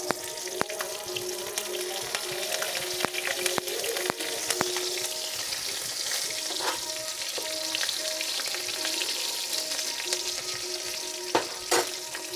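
Cumin seeds and green chillies sizzle in hot oil in a pan as the base for a fish curry. The steady, fairly quiet frying crackle runs throughout, with scattered sharper pops and spatters and no talk.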